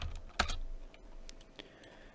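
A few faint computer keyboard keystrokes, scattered clicks with one sharper tap near the start, quiet and close against a low room hiss.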